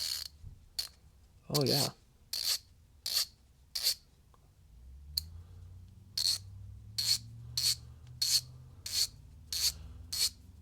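A Craftsman V-Series ratchet is turned in short strokes, each burst a crisp, close run of fine clicks, repeated about a dozen times with brief pauses. A low machine rumble joins partway through and a voice briefly speaks.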